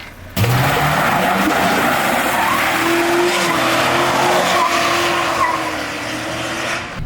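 A $1,500 pickup truck with a bad transmission driving hard, its engine roaring and tires squealing loudly throughout, with a long skidding screech that continues for several seconds.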